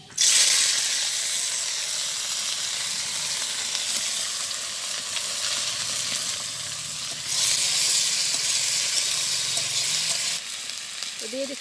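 Okra, eggplant and tomato fry in hot oil in a village kitchen, giving a steady loud sizzle that swells briefly partway through as the vegetables shift in the pan, with no talking.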